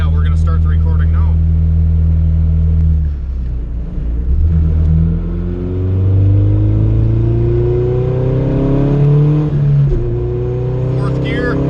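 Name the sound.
Honda Civic engine accelerating through gears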